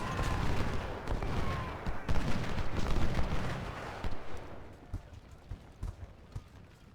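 Volleys of musket and cannon fire from Civil War battle units in Ultimate General: Civil War, dense and continuous at first, then thinning into scattered individual shots and distant booms.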